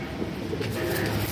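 A Madrsai old-generation male pigeon coos close by, a brief steady low throaty murmur throughout.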